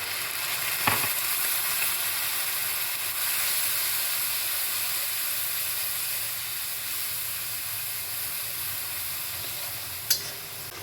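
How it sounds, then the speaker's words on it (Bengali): Ground spices sizzling hard in hot oil in a pan as a little water goes in, a steady close hissing fry with a couple of brief clinks and no talk. "এবার এর মধ্যে দিয়ে দেবে একটুখানি জল যাতে মশলাটা পুড়ে না যায়"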